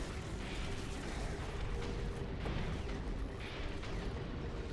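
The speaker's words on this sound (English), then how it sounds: "headshot with a rocket launcher" Rocket launcher fire and blasts in the game Doom 3 BFG, a steady rumbling roar with repeated bursts and explosive booms at close range, continuous throughout.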